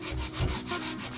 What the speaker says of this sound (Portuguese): vem aqui lixando.